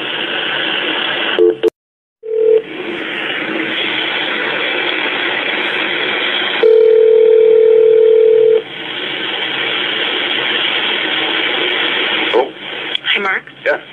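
Telephone tones on a sheriff's office dispatch line during a call transfer: a steady held tone and brief beeps over a continuous hiss, loud and close, with a short cut of silence early on.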